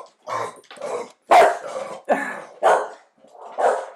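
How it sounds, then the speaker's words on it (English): Several dogs bark close by in about six loud, separate bursts, some with a rough, growly edge. "those are some dogs"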